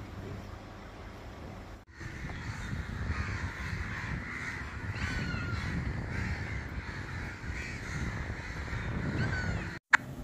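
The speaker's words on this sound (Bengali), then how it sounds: "সেই জন্য এত পাখির ডাক" Crows caw steadily from big trees around a resort in rainy weather, a dense, continuous chorus of harsh calls mixed with other birdsong at moderate distance, filling the whole stretch with no talking.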